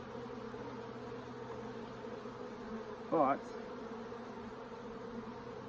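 Honey bees buzz in a steady, low drone while a summer hive is opened for inspection, with a brief louder swell as bees pass close, and a single short spoken word partway through.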